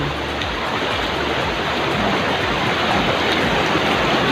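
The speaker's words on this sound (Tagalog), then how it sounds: "Yan, yung ilog namin." A river in a rural province rushes steadily, a dense continuous wash of flowing water close by with no voices over it.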